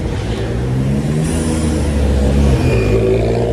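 A car fitted with a muffler revs its engine, giving a loud, close, sustained low drone that rises slightly in pitch and stays continuous throughout.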